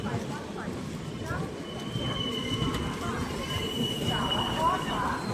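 Korba–Visakhapatnam Express at a station during a two-minute halt: a steady rumble of train and station bustle with faint wheel squeal and tonal hums, with people talking nearby throughout.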